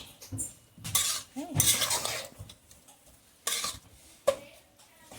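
A lid comes off a covered pot of soya methi matar khichdi. Metal clinks and scrapes of the lid and a spoon stirring sound close by, with faint sizzling between the sharper knocks.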